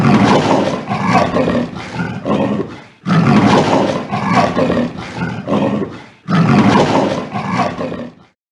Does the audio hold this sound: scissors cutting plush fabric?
no